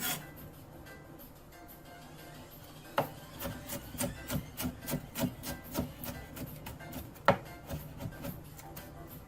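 A knife chops ingredients for a chimichanga on a cutting board in a home kitchen: a quiet pause, then a quick run of rhythmic, fairly faint thuds and taps, with one stronger strike near the end.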